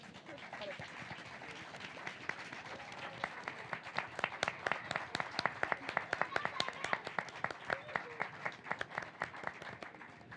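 Steady applause from an audience at a literary debate during a book fair in the Canary Islands, many hands clapping densely and continuously, with louder individual claps standing out near the front.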